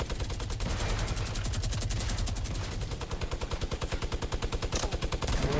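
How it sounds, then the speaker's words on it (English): Rapid minigun fire in the Fortnite video game, a dense and loud stream of shots that turns into a distinct pulsing rhythm of separate bursts toward the end, with no talking over it. "Yep, they're shooting."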